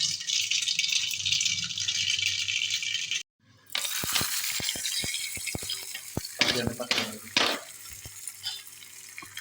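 Mustard seeds go into hot oil in a pan and sizzle and spatter with a broad, steady hiss. After a brief gap comes a stretch of sharp popping, crackling and rattling, close by.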